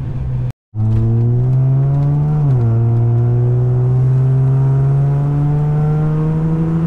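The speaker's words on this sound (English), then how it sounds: "I'll put a different exhaust clip from the previous one compared to this one" A Nissan Maxima with a new motor, transmission and upgraded full exhaust revs in a loud, deep, steady drone that cuts out briefly near the start, then holds with a slight dip in pitch partway through. No voices are heard.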